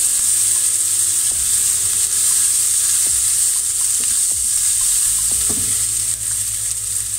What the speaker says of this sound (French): et je fais fondre cette pâte à curry.